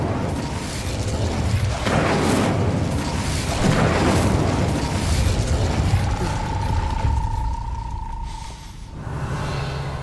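The Incendio fire spell cast in the game Hogwarts Legacy: a loud, sustained whooshing roar of flame with rumbling bursts, easing off near the end as a steady tone rises and fades.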